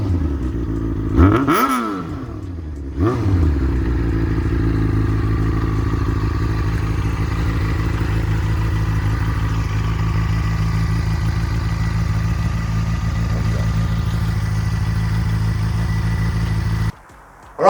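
A Yamaha FZ6 motorcycle engine runs while riding, a steady loud drone with a couple of brief revs near the start and a sudden cut near the end, close to the microphone with no talk.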